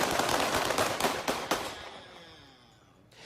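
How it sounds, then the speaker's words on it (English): A rapid burst of sharp gunshots cracks out several times in quick succession, then fades into echoing silence. "After multiple gunshots ring out"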